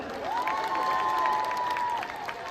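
Crowd applause and cheering at an Armenian folk dance show, fairly distant and continuous, with a long sustained whistle riding over the clapping.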